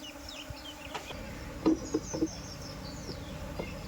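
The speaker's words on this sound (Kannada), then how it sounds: "ಅದೇ ತುಡುವೆ ಜೇನು ಅಂತ ಹೇಳ್ತೀವಲ್ಲ" Asian honey bees buzz around a hive box outdoors, a faint, steady hum with a few brief louder passes of individual bees near the middle.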